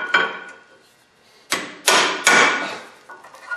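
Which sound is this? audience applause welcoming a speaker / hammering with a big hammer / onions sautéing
hammering with a big hammer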